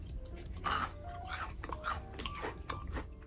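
Crunchy lychee-flavoured crystal jelly candy is bitten and chewed close up, giving a series of crisp crunches and moist chewing sounds with faint vocal murmurs.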